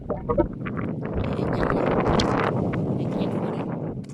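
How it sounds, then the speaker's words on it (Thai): Strong wind buffets the microphone on a seashore at low tide, a steady loud roar of rumbling gusts for several seconds with no talking. "ลมแรงค่ะทุกคน อาจจะไม่ค่อยได้ยินเสียงนะคะ"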